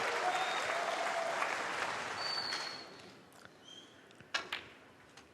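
A snooker audience at the World Open final applauds a total clearance, dense clapping that fades out over several seconds, leaving a few scattered claps and knocks.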